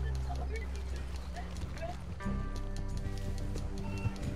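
Horse hooves clip-clop on the ground in Red Dead Redemption 2 near an alligator, a steady rhythmic trot under game music and ambience, with faint tonal effects joining partway through.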